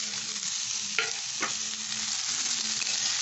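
Grated kabab being stir-fried in a pan with butter and onion, a close, steady sizzle with a couple of sharp scraping stirs.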